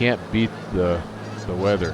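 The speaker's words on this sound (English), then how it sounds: "I hear the geese in the background." Geese honk repeatedly in the background near a small Piper Turbo Arrow IV plane, short nasal calls overlapping with a person talking in the foreground.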